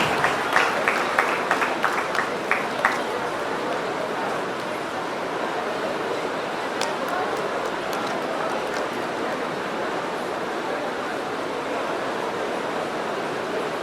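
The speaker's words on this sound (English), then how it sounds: "A round of applause for Mr. Aman Kumar Singh, the MD of Being Creative Group of Business." An audience applauds at an inter-college youth festival event, with a dense wash of clapping from a large crowd in a hall, a few sharper claps standing out at first before it settles into a steady roar.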